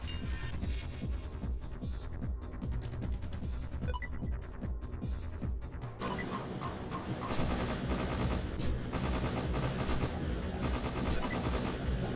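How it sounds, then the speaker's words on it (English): Electric Tommy guns fire nonstop in a video game, a loud, dense stream of rapid shots over throbbing game music and effects that shift midway. "Electric Tommy guns."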